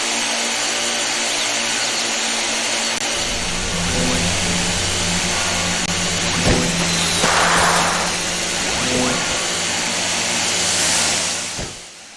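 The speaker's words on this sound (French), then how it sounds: "On contrôle ici des voitures radiocommandées, et pas des vraies voitures." Small buzzy radio-controlled car engines in the video game Re-Volt whine and rev, rising and falling in pitch as the cars accelerate, with a steady hum underneath.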